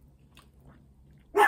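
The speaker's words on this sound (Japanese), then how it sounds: "犬のテレビもちょっとワンワン言っちゃってます" A dog barks on a television in a room near a café dessert tasting, a single loud bark at the end after near silence.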